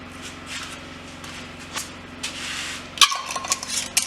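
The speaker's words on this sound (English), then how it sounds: "We're going to put the lids on and put them in the canner. Just hand tighten." Metal lids being set on glass canning jars of tomatoes and screwed down by hand, light clinks and scraping twists against a steady kitchen hum, ending in a few louder metallic clacks.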